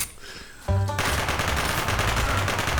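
Rapid automatic gunfire in the video game American Fugitive bursts in after a short quieter lead-in and keeps up as a dense, loud, continuous rattle to the end.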